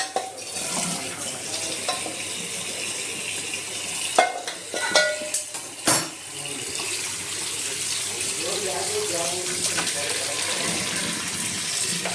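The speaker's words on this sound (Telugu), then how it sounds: "నేనైతే షింక్లో నార్మల్ రూమ్ టెంపరేచర్ వాటర్ పోస్తాను" Water runs from a tap into a sink with a steady splashing hiss, interrupted midway by a few clanks and knocks of dishes.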